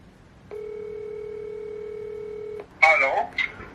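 A steady telephone dial tone sounds for about two seconds while a call is being placed, clear and close, then cuts off abruptly and a voice follows.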